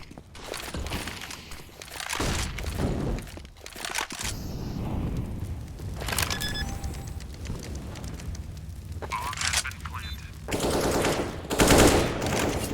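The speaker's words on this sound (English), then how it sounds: "And Fraud, great shot from him, taking out Renz, and that is a broken, busted open B bomb site" AK rifle gunfire in a Counter-Strike: Global Offensive match: rapid automatic bursts and scattered shots with game effects, loud and close, arriving in clusters throughout without any talk.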